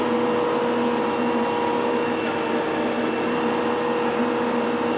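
Tractor engine drones steadily in forward gear on hand throttle, a loud, constant mechanical hum with no change in pitch, heard close up and alone.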